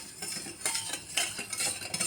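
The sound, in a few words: stirring sugar into cold water in a bowl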